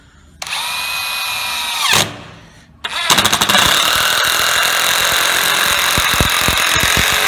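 An Einhell cordless impact driver whines and then hammers screws into hard, knotty wood, with a long motor run followed by a sustained rattling impact burst. The sound is loud and close, with short pauses between runs.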